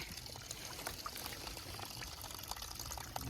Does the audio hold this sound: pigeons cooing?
no